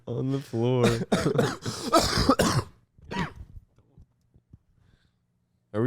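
A person coughs harshly several times and clears their throat after some talk, and then a few faint scattered sounds follow in near silence.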